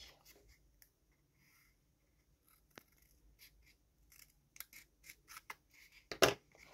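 Scissors snipping paper or stickers in a quiet room: faint scattered scrapes at first, then a series of short, crisp cuts building to one louder, close snip near the end.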